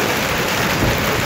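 Hailstones the size of walnuts hammer down over orchards and vegetable gardens in Malatya, making a thick, continuous clattering roar with a low rumble beneath, loud and uniform throughout.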